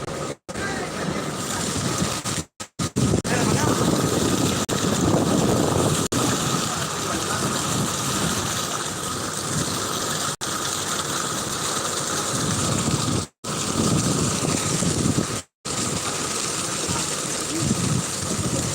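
A passenger ship docks, a continuous rushing churn of engine and water running loud and steady from start to end, broken by a few brief dropouts.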